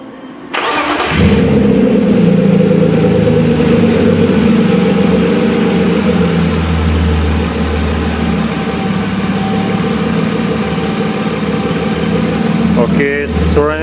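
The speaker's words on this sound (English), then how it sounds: "So now I'm going to start the car and show you is it going to work or not." A BMW E36 with a swapped-in M52B28 inline-six cranks and catches after a second of quiet, then settles into a loud, steady idle that runs close up for the rest of the clip, ending with a brief sharper burst.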